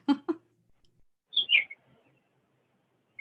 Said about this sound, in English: the birds are whistling very loud